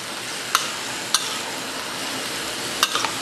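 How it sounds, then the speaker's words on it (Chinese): Curry noodles are stir-fried in a wok under a steady, moderate sizzle, with a few sharp clinks of the spatula against the metal punctuating the hiss. "好，然后把它拌炒一下"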